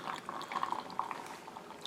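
Pickling brine with fennel and coriander seeds poured over turnips for Lebanese pink pickles, a steady close splashing, gurgling stream of liquid lasting about two seconds.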